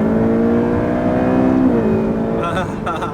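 A Ferrari with a dual-clutch gearbox accelerates hard, its engine tone climbing loud and close, then breaking with a quick gear shift before pulling again; faint voices sit beneath the roar.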